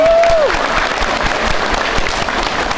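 Audience applause at the closing celebration of a Mandiri event in Hong Kong, a dense, loud wash of clapping and crowd noise that holds steady throughout, with a brief voice or tone fading at the start.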